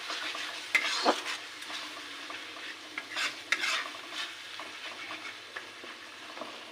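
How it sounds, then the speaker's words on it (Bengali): Fish stirred in a pan with ground cumin, Kashmiri chili powder and tomato sauce gives soft sizzling under repeated spatula scrapes and light clinks against the pan, close and irregular, with no talking. "জিরের গুঁড়ো কাশ্মীরি লঙ্কার গুঁড়ো আর টমেটো সস দিয়ে সেটা দিয়ে ভালো করে মিশিয়ে দিতে হবে"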